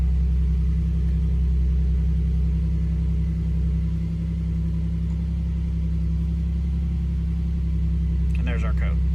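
A 2005 Ford Mustang V6 idles steadily and loudly close by, its low rumble continuous throughout, with no clear start or revs and a brief higher-pitched noise near the end.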